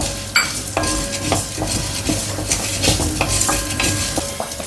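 Urad dal, dried chilli and cumin dry-roasting in a pan, with steady stirring scrapes and soft sizzling, punctuated by a few sharper clinks of a spoon against the metal, close and continuous with no talk.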